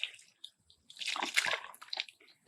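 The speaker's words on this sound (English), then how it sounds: "and then you'll turn the water on." Water rushes and splashes out of the open end of drip irrigation tape as the lines are flushed, an irregular sputtering burst that is close and fairly loud, with no talk.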